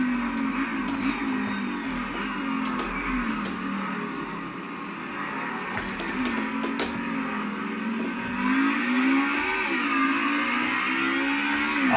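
A car engine in a VR racing video game revs and accelerates while chasing a BMW, a continuous rising and falling engine drone with gear changes, loud and close with no talk.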